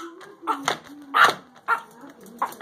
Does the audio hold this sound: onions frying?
no